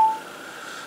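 A short electronic telephone dialing tone sounds once, brief and fairly faint, then settles into a steady, thin hum.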